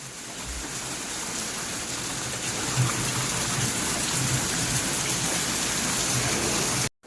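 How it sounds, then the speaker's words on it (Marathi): Heavy rain pours outside during the monsoon, a dense, constant hiss of drops striking surfaces that holds steady for the whole stretch before cutting off abruptly at the end. "आता सध्या ना बाहेर जोरदार पाऊस येतोय"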